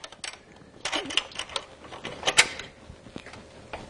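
A wrench clicking and ratcheting on a bolt while an engine and exhaust are being worked on, producing a string of small, close metallic ticks and taps of uneven rhythm.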